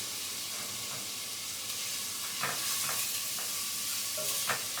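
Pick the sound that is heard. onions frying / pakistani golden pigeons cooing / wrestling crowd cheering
onions frying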